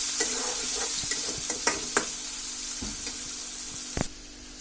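Potatoes, garlic and onion sizzle steadily in a pan for palong shak while a utensil scrapes and stirs at irregular intervals, close and fairly quiet, with no talking.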